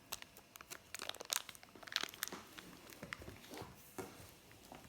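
Plastic toy packaging crinkles and crunches as a Lost Kitties series 2 toy box is torn open, with sharp bursts of crackling spread across the stretch and no talking.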